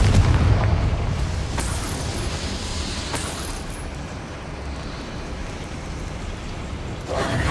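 A Confringo spell in the video game Hogwarts Legacy bursts as a deep booming blast with crackling debris over dense, steady game noise, followed by a few sharper hits in a continuous loud rumble.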